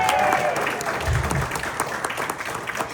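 Applause from a comedy show audience at a roadhouse, a short burst of dense, fairly close clapping with some crowd noise underneath.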